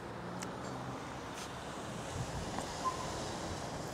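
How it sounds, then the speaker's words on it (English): Steady outdoor wind rushes and buffets the microphone in Pattaya, Thailand, a continuous broadband roar with a few faint thumps and no speech. "Just love the wind."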